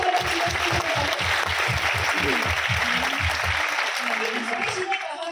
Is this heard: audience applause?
yes